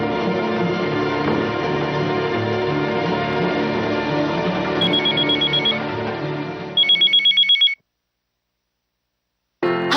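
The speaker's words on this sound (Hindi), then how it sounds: "श्रुति को फोन करता हूं।" A telephone rings during a call in a Hindi TV drama, the ringback tone repeating steadily under a music score, then a sharper electronic ring pulses in several quick bursts before cutting to silence.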